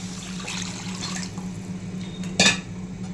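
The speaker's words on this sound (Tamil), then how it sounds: "நல்லா இந்த ஸ்டேஜில் நமக்கு தேவையான அளவுக்கு தண்ணி ஊற்றிக்கலாம்" Water pours steadily into an onion-tomato masala for vada curry in a pot over a constant cooking hum, with a brief louder splash or clink near the end.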